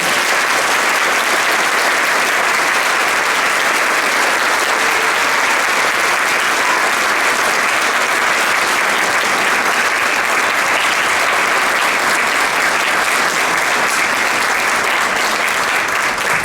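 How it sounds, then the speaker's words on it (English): A large audience at an International Holocaust Remembrance Day ceremony gives sustained, loud applause as delegations from France, Italy, Germany and the United Kingdom are welcomed, an even, unbroken wash of clapping lasting well over fifteen seconds. "And let's welcome them with our applause."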